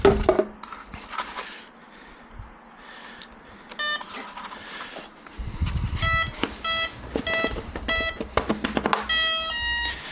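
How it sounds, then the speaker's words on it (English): An RC glider's electronic speed controller, an FMS ASW-17 setup, sounding a series of short tonal beeps as a 4S battery is connected, the beeps clustered in the second half over a low background hum. "So you could hear it beep 4 times"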